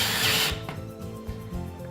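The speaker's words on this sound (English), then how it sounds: "And it just screws right in." A power drill drives a screw into a shelving track above a 16-inch stud mark, a loud high whine for about half a second that drops into quieter mechanical clicks and low thumps.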